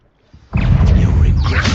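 The Stupefy spell cast in Hogwarts Legacy: after near silence, a loud magical burst erupts and holds as a dense, sustained rushing blast.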